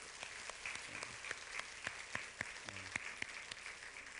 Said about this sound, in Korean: 우리 좀 학생들 위해서 한번 박수 한번 쳐주십시오.